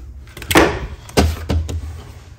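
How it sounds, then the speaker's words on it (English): A door swinging and knocking: three sharp broadband thuds about half a second apart, the first strongest, each with a low rumble underneath, close and fairly loud with no talk. "Otherwise, if I don't open this up, the door swings back."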